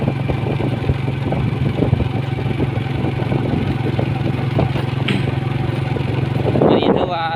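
A motorcycle engine drones steadily at close range while riding a mountain road at Phou Sao, with continuous low engine tone and wind noise, and a voice briefly talking near the end.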